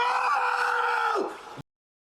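A loud, sustained scream from a film character rises in pitch, then bends downward and breaks off abruptly into silence.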